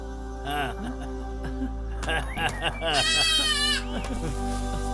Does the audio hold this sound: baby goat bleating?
yes